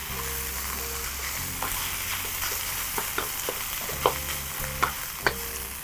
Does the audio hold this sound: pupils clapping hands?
no